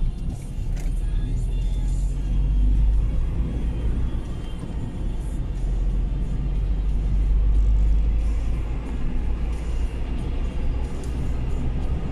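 A car drives along Żmigrodzka Street in Wrocław on an evening after a storm, giving a continuous loud engine and road rumble from inside the vehicle with gentle swells as it accelerates.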